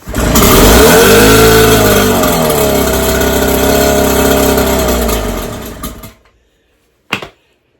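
A 1945 Evinrude 9.7 HP outboard motor runs out of the water after being started, a loud close buzzing drone that revs and settles before cutting out abruptly near the end, followed by silence and one brief knock.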